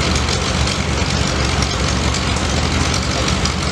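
An old vintage tractor engine running steadily outdoors, a loud continuous rumbling drone with no breaks or pauses, close by and heard alone.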